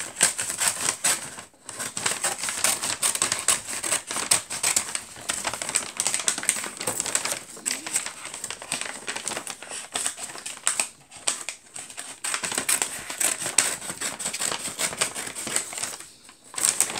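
Scissors cut through a paper shopping bag, a dense run of quick crisp snips and crinkles, close and fairly steady, with short pauses between passes.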